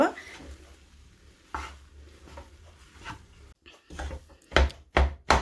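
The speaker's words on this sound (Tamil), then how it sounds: "இப்படி கொத்தி கொத்தி விட்டுக்கோங்க. அப்போ தான் நல்லா எல்லா இடத்துலையும் கிரேவி படும்." Metal spatula chopping and stirring idiyappam kothu with gravy in a pan, giving repeated scraping knocks that grow to several sharp clanks near the end, close and fairly loud.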